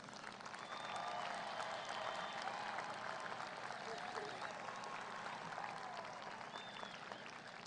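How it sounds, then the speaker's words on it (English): Sustained crowd applause fills a large outdoor field at an evening high school graduation ceremony, a dense steady wash of many hands clapping at a distant, fairly quiet level with faint voices mixed in. "Let's give them one more round of applause"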